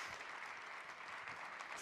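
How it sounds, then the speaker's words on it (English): Audience applause at Disrupt Berlin 2019, a tech conference, forms a faint, steady wash of distant clapping from a large crowd with no speech. "Please give him a big round of applause."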